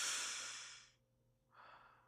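A person breathing, with one long close exhale that fades into a short pause, then a softer breath starts up again.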